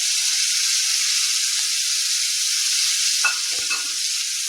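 Grated tomato and Kashmiri red chilli powder frying in a pan for a spinach and egg curry, a loud steady hiss of sizzling with a couple of brief stirring scrapes near the end.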